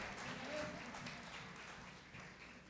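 Faint, diffuse applause from a church congregation during a sermon, a soft wash of clapping that stays even and distant, with voices blending underneath.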